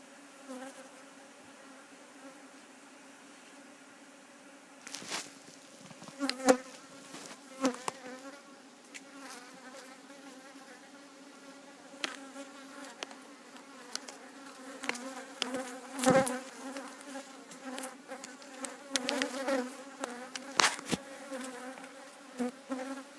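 Honeybees buzz loudly and continuously at an opened hive during a hive inspection, with a dense steady drone and bees darting close to the microphone; no talk is heard.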